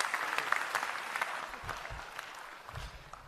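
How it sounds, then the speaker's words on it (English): Audience applause at a university graduation ceremony, a steady wash of clapping from a large crowd that holds through the whole stretch at moderate level with no voices over it. "give him a bit of applause"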